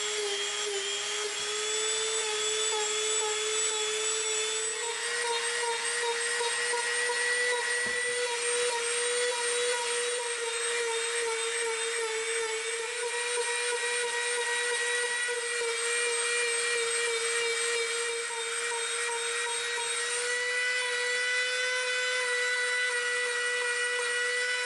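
A power tool smooths and tapers EVA foam into the peak of a cleaver prop, a steady high-pitched whine holding without break at close range, with no talking over it.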